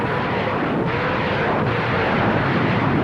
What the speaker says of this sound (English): the Nebelwerfer quickly showed itself to be an effective area bombardment weapon, with a powerful demoralizing effect on enemy troops.